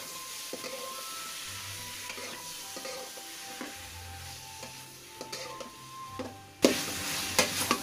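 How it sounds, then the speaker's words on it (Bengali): Mashed elephant apple (chalta) fried in oil with garlic, a steady close sizzle broken by regular scraping stirs of a spoon against the pan, growing louder and busier toward the end. "আমি এখন এটা নাড়াচাড়া করবো রসুনের সাথে তেলটার সাথে একটু ভেজে নেব"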